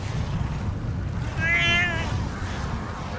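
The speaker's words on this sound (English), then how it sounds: "I have never met a talking cat as rude as this." A talking cat character in a video game gives a single drawn-out meow that rises and falls over a loud, steady low rumble of in-game ambience.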